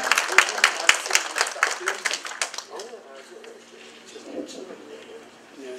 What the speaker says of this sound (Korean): 우리 조광세 회장님 우리 박수로 환영하겠습니다.